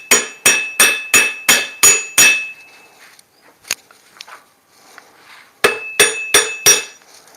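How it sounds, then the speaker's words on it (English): A hammer striking sharply during rehandling of an antique axe: seven quick, evenly spaced ringing blows, a pause with light clinks and handling noise, then five more strikes, loud and close. "Right now it's called a hammer."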